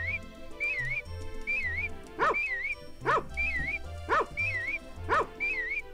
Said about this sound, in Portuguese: É, só tá latindo, mas não tá vindo aqui pro nosso lado.